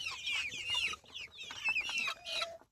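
Broiler chickens 45 days old cluck and call in a close, busy flock, with overlapping bursts of clucking throughout and a brief lower call near the end.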